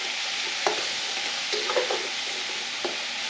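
Onions softening in oil in a pan for goulash, a steady broad sizzle with a few light stirring clinks and scrapes, close and continuous, no talking.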